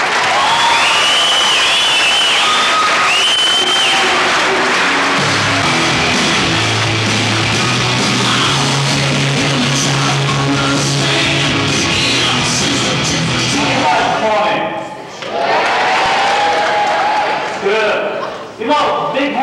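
A live audience applauds to welcome a keynote speaker, sustained clapping and some crowd noise filling the room loudly for most of the stretch before thinning out near the end.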